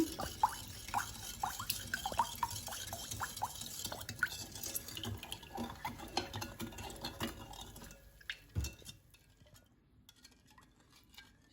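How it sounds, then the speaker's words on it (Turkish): A spoon stirring sugar syrup (şerbet) in a pot on the stove: repeated light clinks and scrapes against the metal with soft liquid sloshing, close up, fading to quiet near the end. "İyice şekerin erimesi için karıştıracağım sürekli."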